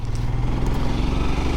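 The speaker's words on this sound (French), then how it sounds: "Le moteur est très présent." A 2022 Royal Enfield Himalayan Scram 411 with a single-cylinder engine drones steadily at speed, a loud close thrumming pulse with wind rush and no talking.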